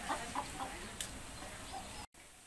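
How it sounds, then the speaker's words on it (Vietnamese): Chickens clucking in a rural village yard during harvest time, a few soft scattered clucks close by under steady background noise. "Bà cụ là đang là trông gà, không cho gà ăn thóc ấy"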